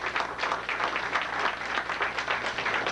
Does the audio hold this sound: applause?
yes